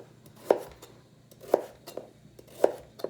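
A knife chops carrots on a cutting board for a pork shank braise, three deliberate, evenly spaced thuds about a second apart, close and fairly quiet, with faint small knocks in between and no talking.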